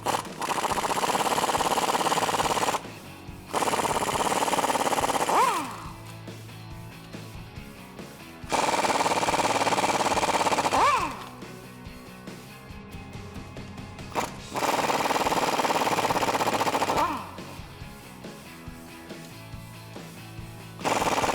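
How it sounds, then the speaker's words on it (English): An impact wrench with an 18mm socket backs out bolts on a 2-door Jeep Wrangler JK during a lift kit install. Three loud, sustained rattling bursts of several seconds each are separated by quieter gaps of shop noise. "we'll take an 18mm on an impact. We'll take all 4 of these bolts out"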